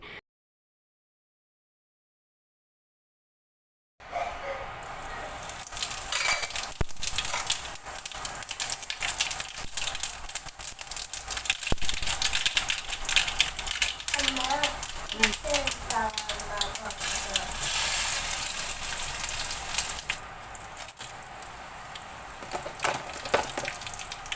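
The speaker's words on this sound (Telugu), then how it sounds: "నేను పోపు కోసం ముందు స్టవ్ ఆన్ చేసుకొని బాండీ పెట్టుకొని దీనిలో కొద్దిగా ఆయిల్ వేసుకోవాలి" A little oil heating in a kadai on the stove for tempering spices for chukka kura and moong dal gives a steady, dense sizzle and crackle, starting after a few seconds of silence and continuing throughout.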